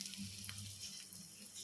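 Onions sizzle softly in a spoonful of hot oil, a faint, steady frying hiss with light crackles, heard alone without talk.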